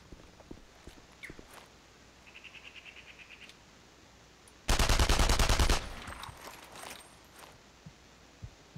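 A burst of rapid automatic gunfire rings out in an Enemy Front multiplayer match. It lasts about a second amid quieter footsteps and faint scattered game sounds.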